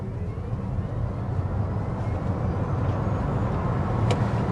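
A 2026 Toyota C-HR SE on a test drive, a steady, even broadband road and engine rumble from inside the cabin, with no one talking.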